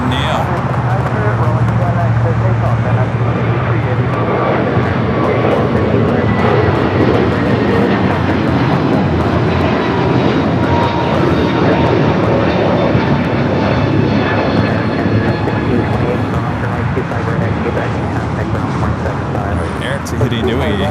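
A United Airbus A321neo jet taking off at LAX, a loud, continuous broadband engine roar that stays steady throughout with no clear voices over it.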